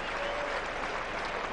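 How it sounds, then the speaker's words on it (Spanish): A tennis crowd at the Indian Wells match between Ferrer and Roddick applauds a hard-fought point, steady dense clapping from a large stadium audience, even and continuous throughout. "El público aplaude porque ha visto aquí un duelo tremendo"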